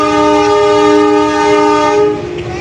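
A local commuter train pulls out of a station on the Jakarta–Bandung line, its horn sounding as a long, loud, steady multi-tone blast that holds for about two seconds over rumbling wheels, then drops away.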